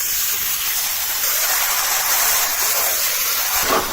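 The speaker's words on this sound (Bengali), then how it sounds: "এখন মাংসটা দিয়ে দেবো।" Chicken meat hits hot oil with fried potatoes, bay leaves, dried chillies and cumin in a pan over a village-style cooking fire, giving a loud, dense, continuous sizzle close up with no talking.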